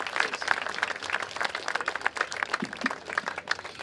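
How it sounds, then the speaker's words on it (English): A crowd claps at a Veterans Day celebration to honor the veterans present, the applause a steady patter of many hands that keeps going the whole time with a few sharper individual claps poking through. "Let's give it one more round of applause for all of our veterans here today."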